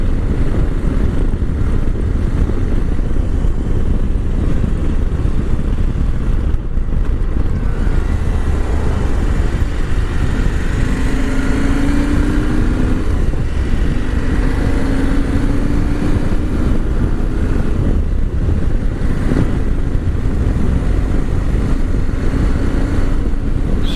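A 2022 KTM 890 Adventure motorcycle is ridden with a steady engine drone under heavy wind rush, loud and continuous throughout, with a slight pitch shift partway through.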